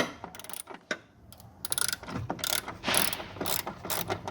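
A 10 mm ratchet wrench works a bolt on a Hyundai HB20 seat belt mount, with bursts of close, quick ratcheting clicks in uneven spurts and no talking.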